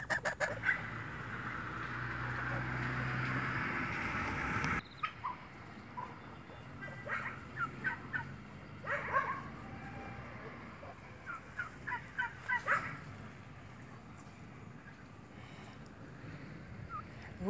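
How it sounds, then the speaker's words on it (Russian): Geese honk and turkeys gobble in short, scattered bursts, with a brief loud engine-like rumble at the start before the birds carry on alone. "Гусы завтракают, индюки завтракают."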